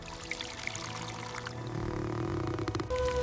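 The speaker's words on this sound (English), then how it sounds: "Then water is poured onto these wedges." Water pours onto dry wooden wedges hammered into a groove cut in rock, a steady continuous splashing and gurgling flow that swells louder toward the end.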